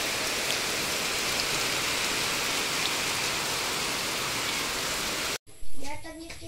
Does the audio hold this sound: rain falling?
yes